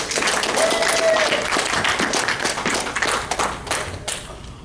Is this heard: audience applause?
yes